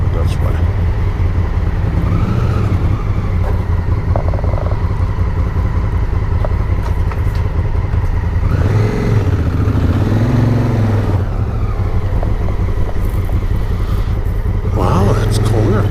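A motorcycle engine drones loudly and steadily while riding through Zion Park, with wind rush and a swell of throttle partway through as a rider talks over the noise.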